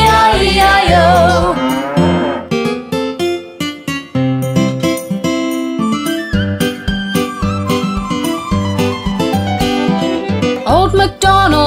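Cow moos from a children's farm song, with a long drawn-out moo at the start and more over bouncy, loud nursery-rhyme music with a steady beat.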